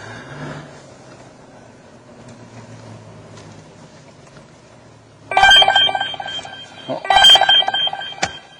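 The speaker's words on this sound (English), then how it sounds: "then we get an audible alarm here on the computer screen" A police licence plate recognition computer sounds its audible alarm, with loud repeated electronic tones in two bursts after a quiet stretch of low vehicle hum.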